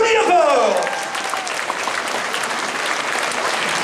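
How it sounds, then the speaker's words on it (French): A crowd applauds a cosplay jury presentation at a convention, the clapping loud and sustained. An announcer's voice sweeps over the start before the applause continues alone. "On applaudit encore."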